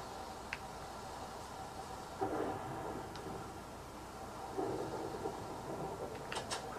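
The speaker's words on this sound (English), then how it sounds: "It's a rainy, stormy day" A Minecraft thunderstorm: faint steady rain hiss with a few low thunder rumbles swelling softly at a distance.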